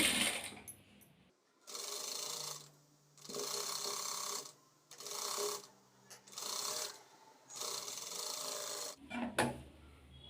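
A sewing machine stitches blouse fabric for a designer boat-neck blouse, running in several bursts of steady mechanical whirring separated by short pauses, close and alone.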